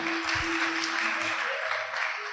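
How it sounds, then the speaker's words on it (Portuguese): Congregation applauding in a church service, a steady broadband wash of clapping that holds throughout, with faint voices and low sounds underneath. "Você pode aplaudir Ele por isso?"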